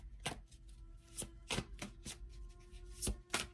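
A deck of tarot cards is mixed by hand in a quiet room, producing a handful of sharp, papery riffles and flicks at an uneven rhythm, close and clear with no talking.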